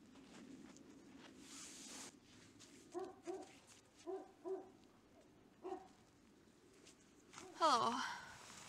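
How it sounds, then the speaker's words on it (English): A dog barks in short clustered bursts during heavy snowfall, soft and somewhat distant, with a whimpering yip near the end and a person talking nearby. "My dog is barking."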